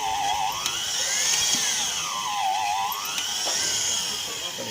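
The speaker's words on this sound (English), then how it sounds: "You listen the drilling machine, it will tell you that the drilling bit is soon to pass through" A drilling machine bores a deep hole into hard steel, giving a loud continuous whine whose pitch slowly dips and rises, with sharp clicks and a steady hiss underneath.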